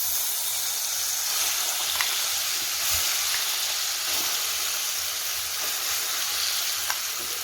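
A blended dates mixture fries in ghee for dates halwa, making a steady, close, hissing sizzle throughout with occasional soft stirring taps.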